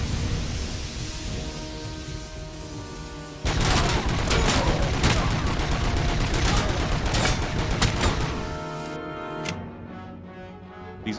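A pistol in RoboCop: Rogue City fires a rapid string of loud shots over a droning game backdrop, the barrage running several seconds before fading to quieter ambience.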